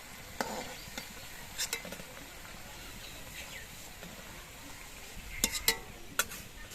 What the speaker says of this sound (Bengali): একইভাবে কিন্তু আমি সবগুলো পকোড়াই ভেজে নেব